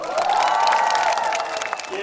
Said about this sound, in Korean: 여러분들에게 인사를 올려 박수 한번 주시기 바랍니다